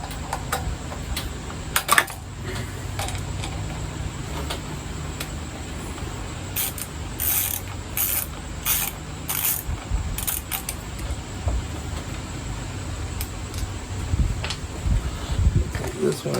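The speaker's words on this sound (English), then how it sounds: "So we'll go ahead and take these two bolts out." A ratchet removes two bolts from a UST 1350 watt generator, producing intermittent bursts of rapid clicking, close up, separated by pauses and handling noise.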